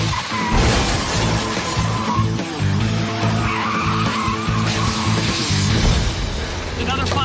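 Cars skid and crash in a multi-vehicle pile-up on the southbound 405 freeway, with loud tire screeches, engine roar and impacts layered under continuous speech.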